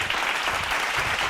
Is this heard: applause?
yes